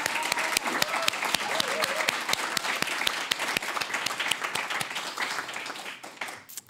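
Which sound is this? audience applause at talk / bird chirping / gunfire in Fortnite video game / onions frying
audience applause at talk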